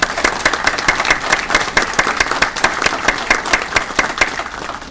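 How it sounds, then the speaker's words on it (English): A crowd at a police awards ceremony claps for officers' family members, a loud round of applause with distinct individual claps, steady and close throughout. "if we can get a round of applause for your family members"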